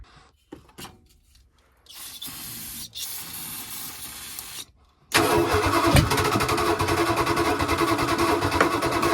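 A short hiss of brake cleaner sprayed into a Dodge Prospector engine, then it cranks with a whirring starter before catching and running loudly and steadily, close by.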